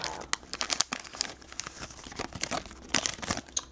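Foil wrapper of a Pokemon TCG booster pack from a Gengar EX box being torn open by hand: several seconds of close, continuous crinkling with sharp ripping crackles and brief pauses.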